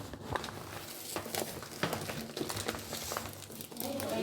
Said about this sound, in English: Rice, they'll pack for you in a paper bag.